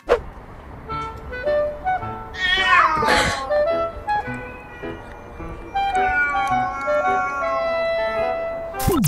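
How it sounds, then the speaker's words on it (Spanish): Kittens meow repeatedly in high, wavering cries, one rising into a loud drawn-out wail, with several overlapping calls close by. "Los gatitos son bastante territoriales."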